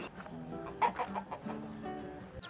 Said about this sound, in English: The cocks are here